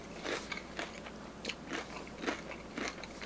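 Repeated crisp crunches from biting into Red Robin onion rings, close up and fairly quiet, with about six sharp crackling bites and chews in a steady rhythm and no talking.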